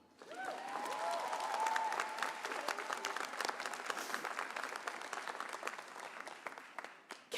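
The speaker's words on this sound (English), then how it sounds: "you may clap." A commencement crowd claps for a lieutenant governor's introduction, a broad, steady ripple of many hands that swells after a quiet start, holds at moderate level with scattered sharp claps, and ends with a sudden louder burst.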